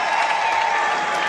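At a San Diego Loyal versus Orange County SC soccer match, the stadium crowd keeps up a steady wash of cheering and clapping, dense and continuous, heard at a moderate distance with no clear voices on top.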